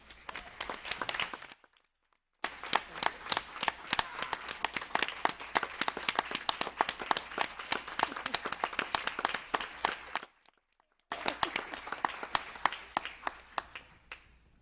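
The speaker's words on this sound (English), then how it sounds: "I just want to invite everybody to applaud her one more time." A crowd at a school board meeting applauds steadily for several seconds, the clapping dense and sustained, broken by two brief gaps of near silence.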